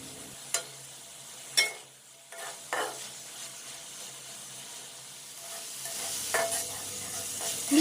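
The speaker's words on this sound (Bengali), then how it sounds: "এবার আমি সম্পূর্ণ কলিজাগুলো এভাবে নাড়তে থাকবো যতক্ষণ না পর্যন্ত মশলাগুলো একদম শুকিয়ে আসে।" Beef liver with spices stirred in a pan until dry, a faint simmering sizzle under a few distinct spatula knocks and scrapes, the frying growing louder toward the end.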